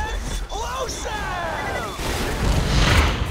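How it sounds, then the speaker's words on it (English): A loud, rumbling explosion from the video game Borderlands 2 swells up after a stretch of talk and fills the last second with dense, noisy roar. "Explosion!"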